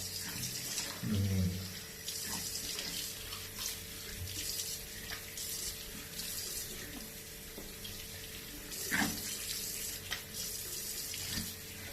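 A tap runs steadily into a sink while soap foam from a facial soap is rinsed off the face, with a continuous close water rush and a few splashes.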